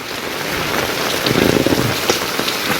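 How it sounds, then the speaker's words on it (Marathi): Heavy unseasonal rain pours down steadily on a wedding canopy and green shade net in Konkan, India, a dense loud hiss of drops drumming on surfaces with no pauses. "हे बघा किती जोरात पाऊस आला"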